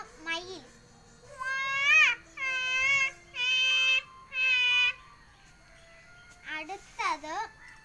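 A child imitates a peacock call with a quick run of four loud, high, harmonic cries in close succession, then a couple of shorter calls after a pause.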